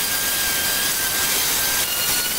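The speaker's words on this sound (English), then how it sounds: "I'm going to go through and just kind of rough sand everything" Rough sanding of wooden toddler bed parts with a random orbital sander fitted with DeWalt hook and loop sanding discs, a steady loud whirring hiss with gritty scraping, close up and without talk.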